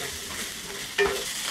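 Sliced mushrooms go into a hot pan for a Korean-style kimchi pasta, giving a steady close sizzle that flares up sharply about a second in as they hit the oil, with no talking.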